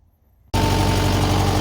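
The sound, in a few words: Kubota tractor engine running, warming up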